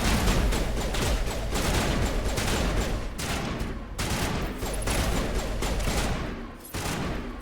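Rapid gunfire in the video game Mass Effect Legendary Edition on Eden Prime: dense, loud bursts of automatic shots rattling almost continuously, with a few short pauses between volleys.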